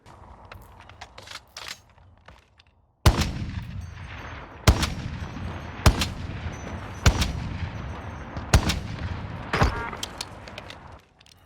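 Heavy Rytec AMR anti-materiel rifle fire in Modern Warfare Warzone, about seven loud, booming single shots spaced a second or so apart, each with a sharp crack and rumbling tail over continuous game noise.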